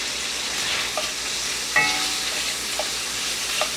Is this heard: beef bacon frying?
yes